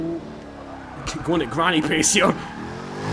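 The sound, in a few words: Jaguar F-Type Project 7 driving in video game Forza 6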